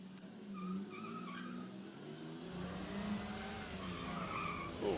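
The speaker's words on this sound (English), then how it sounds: "Oh, nice chirp." A car launches with a brief tyre chirp at a classic car event, the squeal rising over a growing engine note heard from a short distance.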